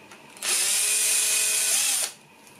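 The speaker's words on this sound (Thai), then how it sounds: "ดอกสว่านที่ใช้นะครับเป็นดอกขนาด2 มิล" A power drill with a 2 mm bit whirs at a steady high pitch for under two seconds, close and loud, starting and stopping abruptly.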